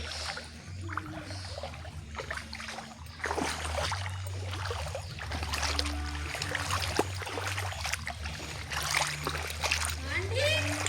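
Floodwater splashes and sloshes continuously through a house, with voices talking in Tamil over the watery churn.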